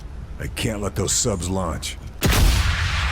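Someone talks excitedly, then a sharp, loud M1A sniper rifle shot in the video game Sniper Elite 5 cracks and rumbles out into a noisy echo.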